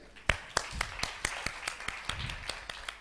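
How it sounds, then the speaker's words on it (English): Audience applause for musicians invited to Glastonbury Festival during a talk on music and diplomacy, about ten sharp, evenly spaced claps ringing out close and clear, with no talk over them. "Give applause to them."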